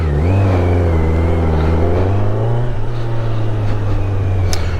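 A Kawasaki Z900 motorcycle engine revs up loudly and close while riding, rising in pitch then holding a steady droning hum, alone with no talk.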